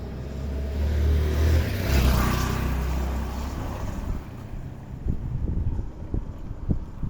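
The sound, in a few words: car driving between other cars on a city street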